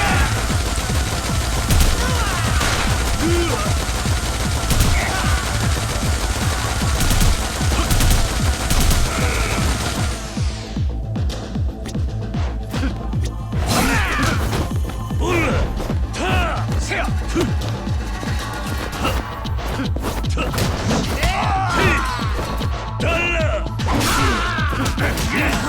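Machine gun fire in the video game Yakuza Kiwami 2, rapid dense bursts of shots and crashing impacts over game music, continuing through a chase sequence with repeated volleys.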